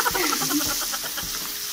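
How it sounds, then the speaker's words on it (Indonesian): Shallots, red onions, frying in a pan, giving a dense, steady sizzling hiss with faint crackles and a few soft stirring knocks, close and continuous without any talk. "Pertama kita goreng dulu guys. Ini namanya bawang merah ya."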